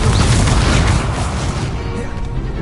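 A loud, booming Expelliarmus spell blast from Hogwarts Legacy erupts at once and rumbles continuously, its dense burst of energy fading slightly toward the end.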